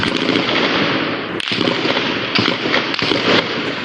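Gunfire sounds in a Brazilian news report, a loud, dense volley of rapid overlapping cracks and pops. It is sustained throughout with a few sharper individual shots.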